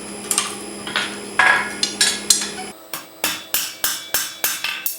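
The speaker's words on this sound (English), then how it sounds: "you want to be hitting these corners into the anvil first." Hammer blows ring out on an anvil while a bottle opener is forged, with a quick series of sharp metallic strikes, loud and close, gaining a brighter, more regular rhythm partway through.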